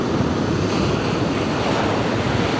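Big sea waves churning as small boats cross rough water, a dense continuous roar of surf with wind buffeting the microphone, loud and close with no voices.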